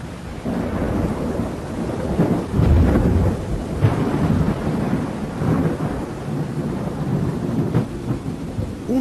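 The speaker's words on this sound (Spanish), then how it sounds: "pude apreciar grandes tormentas rojizas en ese extraño firmamento oscuro" A thunderstorm with deep rolling thunder and steady rain, the rumbles swelling and fading continuously over a constant wash of rainfall, loud and close throughout with no voices.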